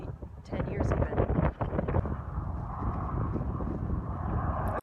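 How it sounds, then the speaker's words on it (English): Wind buffets the microphone on an open road, a dense, steady low rumble and roar that barely lets up, with a voice speaking faintly underneath. "As you notice, the wind has really picked up"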